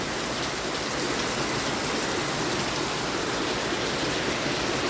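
Heavy rain falls in a thunderstorm, a dense, unbroken roar of drops hitting surfaces close by, loud and steady throughout with no voices.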